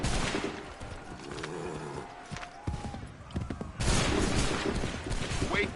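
Musket volleys in Assassin's Creed 3 Remastered, a loud crackling burst of rifle fire from a line of soldiers, near and dense, with battlefield noise and a brief shouted command around it.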